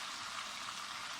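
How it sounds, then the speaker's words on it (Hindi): Half a cup of water poured into sugar in a pan for syrup gives a steady hiss and bubbling, like liquid splashing or starting to boil. It is close and continuous, with no voices. "अब इसके साथ आधा कप पानी डालूंगी।"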